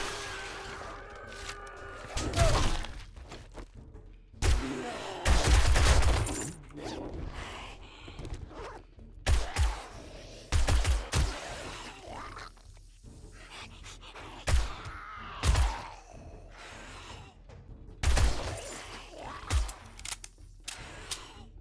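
Gunfire in the 7 Days to Die zombie survival game, with repeated sharp shots and bursts scattered among creaking mechanical sounds, loud and close, with no talking.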